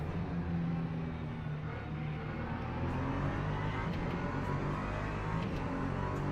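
Race car engine droning steadily in a racing video game at Silverstone, an LMP2 prototype among the field, a continuous loud motor roar with slight revving swells throughout.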